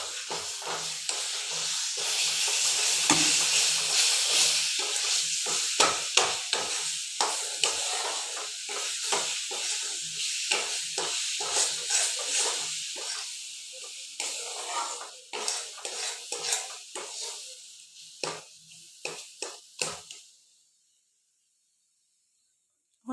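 Spices, ginger and puffed rice tipped into a hot pan for homemade chyawanprash sizzle steadily while being stirred, with a run of scraping and clatter that thins into sparse taps before stopping abruptly.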